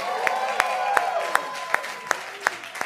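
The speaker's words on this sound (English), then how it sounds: "Can we get a round of applause for Sykkuno?" An audience claps for a guest at a creator event, fairly light and thin applause with a handful of distinct sharp claps punctuating a low murmur of voices.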